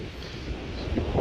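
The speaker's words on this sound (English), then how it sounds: "Oh, it's windy." Low, rumbling wind buffets the microphone outdoors during flint hunting in a steady broadband roar that swells slightly toward the end.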